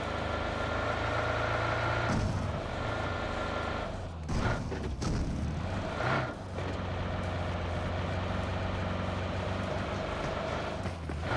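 A vehicle drives in the mobile battle royale game BGMI, with a steady engine drone throughout, some brief rumbling shifts partway through, and no talking.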